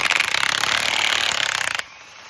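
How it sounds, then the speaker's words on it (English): A pitman arm removal tool being tightened on the steering gearbox of an 08 Silverado 3500HD 6.6 Duramax gives a loud, rapid rattling hammer of an impact gun that stops abruptly, leaving quiet. "you take a pitman arm removal tool and you tighten it down"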